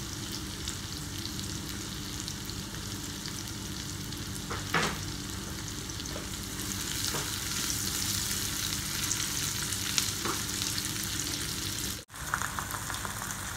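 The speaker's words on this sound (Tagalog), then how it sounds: "Iwain ko muna yung kamatis" Tomatoes sautéing in a pan for pork binagoongan give a steady, close frying sizzle with a few brief stirring scrapes, and no one speaks.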